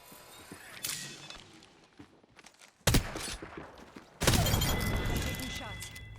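Gunfire in the battle-royale shooter Apex Legends: bursts of weapon shots break out mid-clip, with a sharp loud onset near the end and sustained firing, mixed with game effects and some talk over it.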